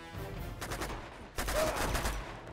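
Gunfire in the video game Uncharted 2: a burst of several sharp shots, followed by a louder, heavier volley about halfway through, moderately distant and echoing over a rumbling game background.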